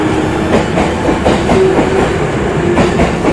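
JR East Shonan commuter limited express train running, a steady rolling rumble with rhythmic clickety-clack of wheels over rail joints, close and fairly loud throughout with no talk.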